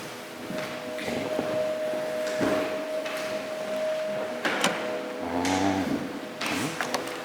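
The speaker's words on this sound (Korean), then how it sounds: "꺼진 상태에서 락을 해제하면 탈칵 소리가 나고 그때 뽑으시면 돼요" A Hyundai Ioniq 5 charging connector unlocks with a few sharp mechanical clicks and clunks over a steady electrical hum, heard close up.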